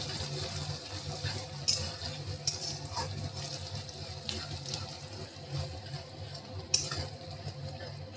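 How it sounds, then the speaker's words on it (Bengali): Chopped onion and curry leaves fry lightly in a pan for chirer poha, a soft, steady sizzle with occasional stirring clinks and scrapes, fairly faint. "কেটে রাখা পেঁয়াজটা দিয়ে দিলাম কারি পাতা দিলাম একটু সামান্য ভেজে নেব"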